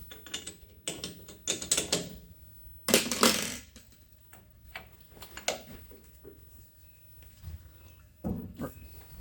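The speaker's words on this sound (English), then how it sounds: "Slacken the chuck off." A lathe chuck being slackened off, close metallic clicks, clunks and ratcheting scrapes in irregular bursts, with a louder rattle near the middle.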